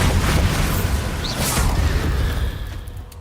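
A booming Bombarda spell blast from Hogwarts Legacy lands loud and close, a heavy low rumble with bursts and whooshing debris that fades out over about three seconds.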